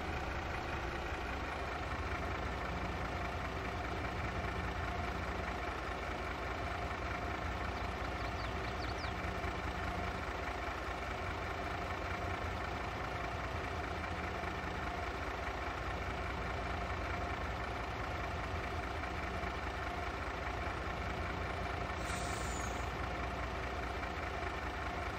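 A crane truck's engine idles steadily on a tree-service job in Farming Simulator 22, a continuous even rumble with no speech over it.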